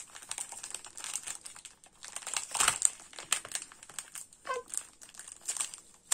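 Crinkling and rustling of tape being pulled off a mailed package, irregular bursts of crackle with a few sharper tearing sounds, close and fairly quiet.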